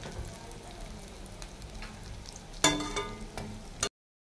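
Lentil fritters (dal bora) fry in hot oil in a home kitchen, with a soft continuous sizzle, a few scraping stirs and a louder burst of crackling near the end before it cuts off.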